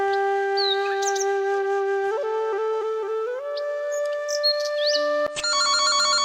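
A mobile phone ringtone plays a bright electronic melody of sustained tones, shifting pitch in steps, then switching to a sharper, buzzier pattern near the end.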